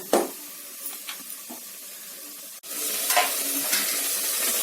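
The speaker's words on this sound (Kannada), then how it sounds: "ಚಿಕನ್ ನೋಡಿ ನೀರು ಬಿಟ್ಕೊಂಡು 7 ರಿಂದ 8 ನಿಮಿಷದಷ್ಟು ಫ್ರೈ ಮಾಡಿದ್ದೀನಿ ಮಸಾಲದಲ್ಲಿ." Chicken frying in masala for biryani sizzles in the pan with a few scraping stirs, then the sizzle jumps louder and stays steady and close, with no talking.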